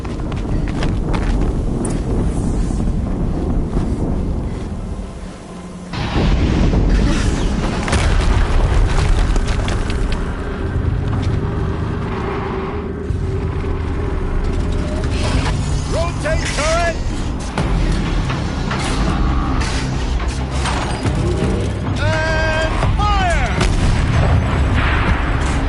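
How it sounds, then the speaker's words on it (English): Explosions in the video game Horizon Zero Dawn: heavy booms over dense, continuous battle noise, with a strong blast about a quarter of the way in and more rumbling impacts after it. "Explosion."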